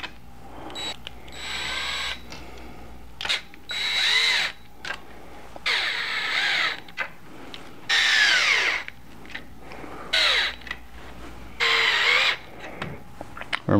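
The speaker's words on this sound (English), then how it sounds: "So now all I have to do is tighten all these bolts down. I'll do that with the drill here" A power drill whirs in repeated short bursts, revving up and winding down as it drives bolts while assembling a bar-height pub table, loud and close with brief pauses between.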